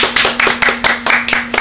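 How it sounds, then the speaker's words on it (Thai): Rhythmic, loud clapping from a small group at a Thai cooking-show judging of the first team's curry, about eight sharp, evenly spaced claps, close and unaccompanied. "ขอเสียงปรบมือด้วย"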